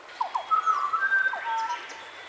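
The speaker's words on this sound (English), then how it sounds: "your breathing pattern will change and the birds will call out to you." Recorded bird calls from a meditation app's breathing cue give a short run of clear whistled chirps and tweets, close and fairly soft, heard alone.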